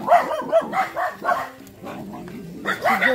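A dog barks in a series of short, sharp yips and barks close by at a home, with a few human voices in between and a brief quieter gap.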